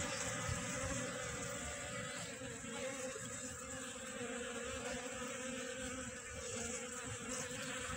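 Japanese honeybees buzz near a praying mantis, a close, steady insect hum that holds for the full eight seconds with slight swells, over a faint background noise and without speech.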